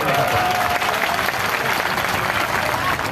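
A crowd at an outdoor political rally in Kharsawan, Seraikela, applauds in a loud, continuous wash of clapping that lasts throughout.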